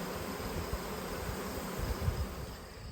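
A dense, even buzz of honey bees around their hive fills the air, a low insect drone that stays steady with small surges, nearby and without speech.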